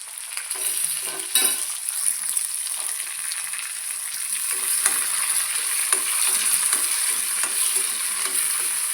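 Kanthari chilies and curry leaves sizzle in a frying pan while dried-fish pickle is being made, a steady crackling hiss with sharper pops and stirring scrapes, close and continuous, no talking.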